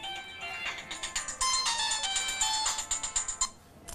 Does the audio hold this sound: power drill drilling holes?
no